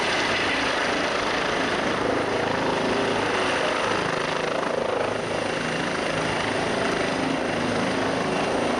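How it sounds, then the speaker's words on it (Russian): A helicopter arriving for a rescue evacuation in Vienna, Austria drones loudly and continuously nearby, its rotor chop and engine roar filling the whole stretch without pause. "Прилетел вертолет"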